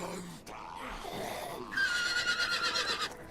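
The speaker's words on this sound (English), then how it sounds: "I heard my horse in distress." A horse in the survival video game HumanitZ whinnies in distress, a loud harmonic neigh lasting about a second and a half near the end, after a stretch of faint mixed noise.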